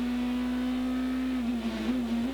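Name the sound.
V8 BMW race car engine going into a right-hander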